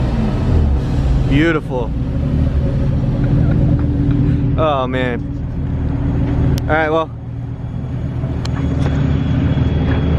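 Whipple-supercharged Nissan 370Z idling with its repaired exhaust, a steady low rumble filling the whole stretch while someone talks and exclaims over it.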